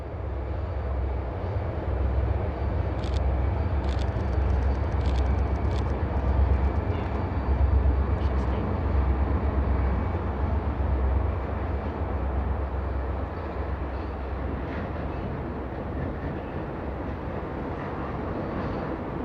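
The eastbound Rocky Mountaineer passenger train runs along the Kicking Horse River in the Canadian Rockies, a steady low rumble of wheels and engine heard from a distance with no voices.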